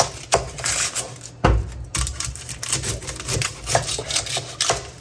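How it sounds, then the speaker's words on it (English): Knife chopping an onion on a cutting board while making a hot toddy cocktail, a run of sharp, close, uneven taps and knocks with no talking. "I'm gonna cut the onion because the garlic is gonna be a little more messier."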